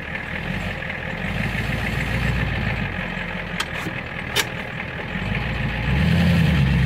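A Ford E350 ambulance van idles steadily at a salvage yard, a constant low engine rumble heard from inside the cab with a couple of brief clicks and a slight rise in engine note near the end.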